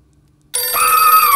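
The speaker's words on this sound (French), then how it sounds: "Le téléphone l'ayant fait sursauter" An old-fashioned telephone bell suddenly rings out loudly in a quiet house, a sharp, continuous metallic trill that bursts in after near silence, with no voices.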